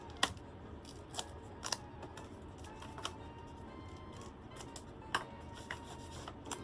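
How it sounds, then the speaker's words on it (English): Scissors trim tape along the spine of a book during a repair, giving a few quiet, separate snips and clicks spread across the clip, with no talk. "Now I'll open it up, and trim off my tape."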